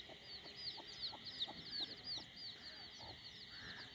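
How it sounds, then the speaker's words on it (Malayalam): A native mother hen and her chicks cluck together at close range. Repeated soft clucks mix with high chirping peeps from the chicks, all fairly quiet. "കോഴികൾ, അമ്മക്കോഴി ഉണ്ട്"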